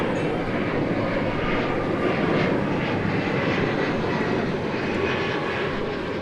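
Fixed-wing airplane at DFW Airport, heard as a sustained broadband engine roar at moderate distance, steady throughout with no speech.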